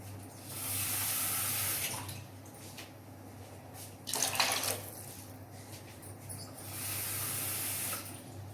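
Water pours from a tap into a khichdi pot of rice and lentils. Two sustained splashing pours are broken by a short, louder gush in the middle, with no talking.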